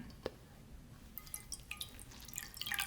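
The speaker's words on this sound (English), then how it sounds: "Just taking a bit of fresh water here" Fresh water drips onto a clean cloth in a quiet setting, with a single drop followed by a run of small, close, irregular wet taps that build toward the end.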